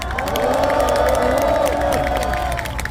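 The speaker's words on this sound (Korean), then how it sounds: "큰 응원의 박수를 부탁드립니다" At an all-night candlelight protest rally in Korea, a large crowd cheers and applauds with loud whoops, a steady roar of voices and clapping that fills the space throughout.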